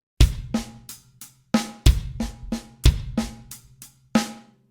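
A paradiddle groove on a drum kit with sharp bass and snare hits and lighter cymbal strokes in a steady, syncopated pattern, close and clear with no talking.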